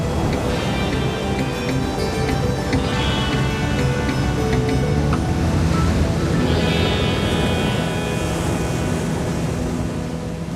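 Steady broadband wash of ocean surf and trade wind along the sunny coast of Sal, Cape Verde, loud and continuous with no talk, a constant roar with faint tonal hum underneath.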